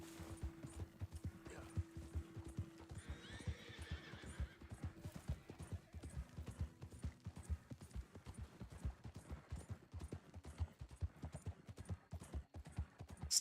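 Horse hooves clip-clop steadily along a road in a video game, a fast even rhythm of close knocks with a horse whinnying near the start and faint game sounds underneath.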